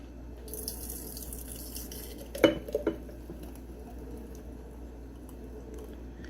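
A strawberry orange smoothie is poured into glass mason jars in a kitchen, giving a soft liquid pour with a sharp clink of glass and a couple of lighter taps midway, over a steady low background hum.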